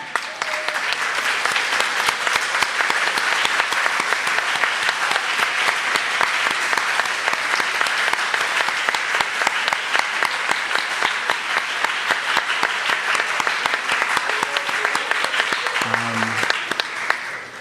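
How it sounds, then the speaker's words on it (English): Meeting participants stand and applaud one another at a closing session, a long, loud, evenly sustained burst of many hands clapping that fades near the end. "So everybody stand up and applaud and appreciate each other."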